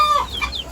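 Brief, close chicken clucks and soft squawks sound in a quick cluster, with no talking.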